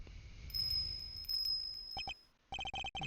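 A small bell tinkles on a dog's collar in the Ace Attorney courtroom game, heard as a series of bright, clipped electronic dings in quick clusters after a sustained tone and some synthesized game sounds. No one speaks.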